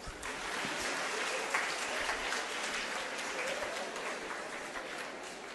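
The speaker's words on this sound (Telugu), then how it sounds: "ఇప్పుడు కూడా అమ్మాయిలు కూడా చప్పట్లు కొట్టచ్చు." Applause from a crowd at a felicitation gathering in Bapatla, a soft, dense wash of distant clapping that stays steady and fairly faint with no voices over it.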